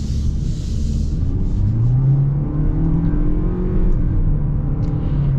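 A 2024 Toyota Corolla hatchback accelerates hard, its engine note climbing steadily in a loud, close, continuous rising drone with no talking.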